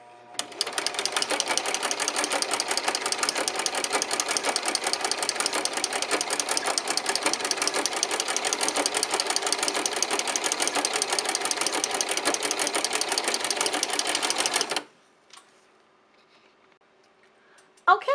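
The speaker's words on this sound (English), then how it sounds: "the sewing machine made 6 stitches, then a ruffle, 6 stitches, then a ruffle, and so forth" Household sewing machine with a ruffler foot gathering fabric into ruffles, running steadily in a fast, even mechanical chatter of stitching for about fifteen seconds, close and loud, then stopping abruptly to near quiet.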